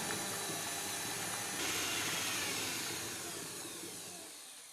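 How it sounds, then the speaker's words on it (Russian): An electric mixer whisks egg yolks with a pinch of salt and sugar for a cake filling, a steady whirring buzz that swells slightly partway through and fades toward the end. "Взбиваем желтки до посветления и до легкой пышности."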